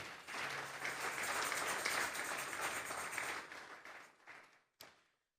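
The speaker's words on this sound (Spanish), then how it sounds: "Vamos a darle un fuerte aplauso esta mañana al Espíritu Santo." Congregation applauding during a church service, a sustained wash of many hands clapping that holds steady for about four seconds, then thins and fades, with one last sharp clap after it dies away.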